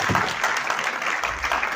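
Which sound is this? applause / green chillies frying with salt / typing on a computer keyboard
applause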